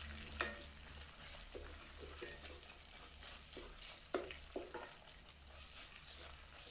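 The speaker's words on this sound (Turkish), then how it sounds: "salçanın kokusu çıkana kadar kavurmamız yeterli olacak" Tomato paste frying in a pan while being stirred, giving a steady low sizzle with intermittent scraping stirring strokes, fairly faint and close.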